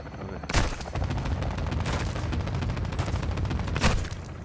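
Gunfire in Call of Duty Modern Warfare 2 during a tank mission: dense automatic bursts rattle continuously, punctuated by two sharper, louder blasts, with no talking.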